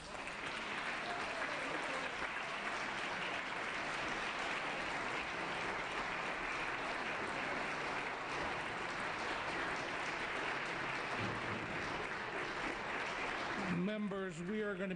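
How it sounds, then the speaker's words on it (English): Sustained applause fills a state assembly floor session, dense and steady clapping from many members throughout, ending in a brief voice near the close. "Another round of applause, please."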